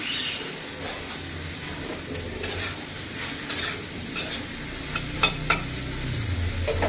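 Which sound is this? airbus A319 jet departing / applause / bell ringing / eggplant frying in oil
eggplant frying in oil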